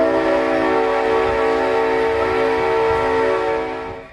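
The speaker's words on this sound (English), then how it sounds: "But for now, the train chugs along." Old heritage railroad train sounding a long, steady multi-tone horn or whistle, loud and close, holding for about four seconds before tapering at the end, with no talk.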